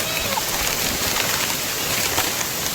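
Heavy rain pours down on a village, a dense, steady hiss of drops beating on surfaces that holds at an even level throughout, with no pause or let-up.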